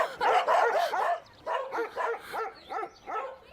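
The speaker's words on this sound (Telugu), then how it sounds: "మా కుక్కలు కూడా మీరు నచ్చలేదు, అందుకని అరుస్తున్నాయి." Several dogs bark in rapid, uneven bursts close by, loud and alone, with yips between the barks.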